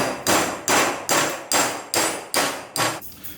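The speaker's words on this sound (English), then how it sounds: "Just going to pop that in and tap it with a hammer." A hammer taps a pin-removal tool on a Jeep XJ Cherokee: seven sharp metallic strikes in a steady, evenly spaced rhythm, close and loud with short ringing decay, no talk.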